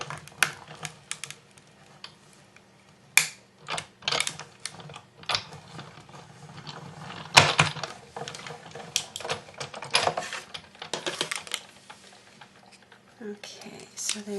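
Metal cutting dies pressed through paper shapes for a rosette, giving repeated sharp mechanical clicks and cranking rattles in bursts, with a person talking intermittently between them.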